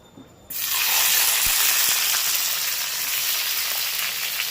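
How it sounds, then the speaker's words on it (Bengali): Chopped tomato hits hot mustard oil on a flat griddle, bursting into a loud, steady hiss of frying that starts abruptly and holds, close and alone, with no voices. "ওই চাটুতে একটু সর্ষের তেল দিয়ে দিয়েছি। এবার এর মধ্যে দিয়ে দেবো টমেটো কুচি।"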